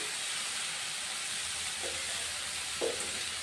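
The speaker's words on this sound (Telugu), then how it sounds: "పచ్చిమిర్చి చక్కగా వేగుతుంది" Green chillies frying in a pan with onion for a red bean dish, a soft continuous sizzle and hiss at low level, with a couple of faint clinks of a lid or utensil.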